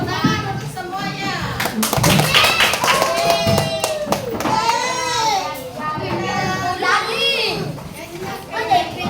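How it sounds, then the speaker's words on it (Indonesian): Children in a classroom clap together in a scattered, sustained round of applause, mixed with lively overlapping kids' voices and chatter throughout. "tepuk tangan untuk semuanya"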